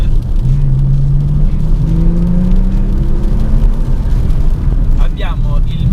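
A Porsche 911 Turbo with all-wheel drive and a twin-turbo flat-six of 520 hp accelerates on a wet road, its engine note rising in a steady surge beneath tyre and spray noise, with someone talking over it.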